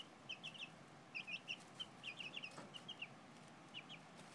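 Two- to three-week-old chicks peep in quick clusters of high, soft cheeps, fairly faint over a low background hum, with short pauses between bursts and no talking.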